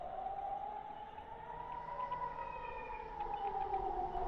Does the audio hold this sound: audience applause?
no